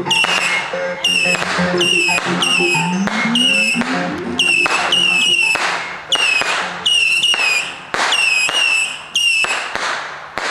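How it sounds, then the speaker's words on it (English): Several packs of firecrackers go off in rapid, crackling bursts, loud and close, with sharp pops tumbling over one another and a brief whistle through the middle. "5 packs of firecrackers, at least."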